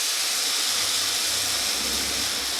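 Soybeans sauté with spices in a pan for a fish-head recipe, giving a steady, dense sizzling hiss that holds evenly throughout with no voices.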